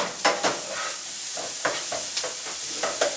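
Garlic and onions sizzling and browning in a pan for a simple marinara sauce, a steady frying hiss broken by several sharp spatters and stirring scrapes.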